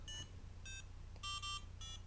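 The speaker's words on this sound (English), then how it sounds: "You can hear that some beeps are really sloppy, but that's because the speaker is a little bit damaged." Short, high monophonic electronic beeps from an Arduino playing the Super Mario Bros theme, in an uneven rhythm, some buzzy and distorted from a damaged small speaker, over a low hum.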